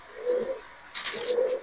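Racer pigeons at a pigeon farm give two soft, close coos in a row, with quiet background noise.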